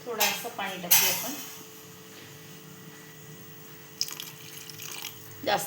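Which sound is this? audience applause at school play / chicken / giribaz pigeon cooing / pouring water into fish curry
pouring water into fish curry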